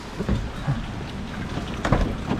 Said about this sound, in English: Oh, it's raining big time.